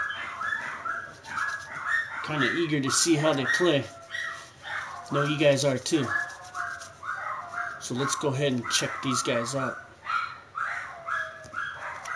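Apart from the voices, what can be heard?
dogs barking downstairs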